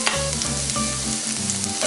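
Onions frying in a pan for a wild mushroom and wild plant stir fry, a continuous close sizzle with a steady tonal hum running beneath it.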